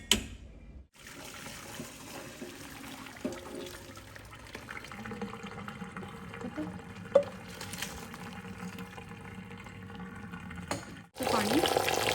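Water drains off freshly cooked thin rice noodles into a kitchen sink, a continuous soft pouring and trickling with a faint clatter midway and a louder gush at the end.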